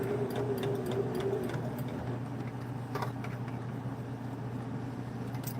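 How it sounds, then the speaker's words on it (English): A sewing machine runs steadily while stitching trim down along a fabric edge for a clothespin bag, a quiet continuous mechanical whir with faint ticking, close by. "I'm going to sew right along that edge, just to sew that little trim piece down."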